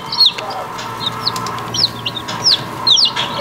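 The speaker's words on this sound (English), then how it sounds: "Yay, thirsty chickies." Baby chicks peep in a run of short, high, downward-sweeping cheeps, several birds calling in quick succession over a steady low background hum.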